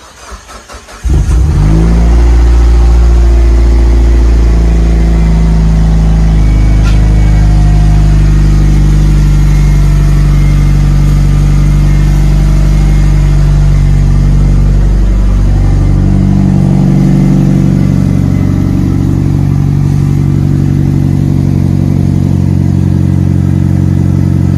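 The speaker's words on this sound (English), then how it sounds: "Cold start for the boys." A used car's engine cold-starts with a brief crank, then catches into a loud, steady high idle that holds close by for the rest of the time, with a slight settling in pitch partway through.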